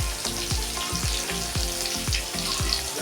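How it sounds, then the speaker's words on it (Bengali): Potatoes frying in hot oil in a kadai give a steady close sizzle, with a regular scraping stroke about every half second as they are stirred, and no talking. "এবারে আমি কড়ায় তেল গরম হতে দেব, দিয়ে একে একে সব আলুগুলো ছেড়ে দেব।"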